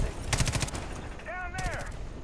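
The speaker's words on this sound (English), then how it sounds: "I gotta shoot Sharky" Gunfire in the Far Cry 5 video game: a burst of rapid shots early on and another sharp report later, with a rising-falling tonal sound between them, all loud amid dense game noise.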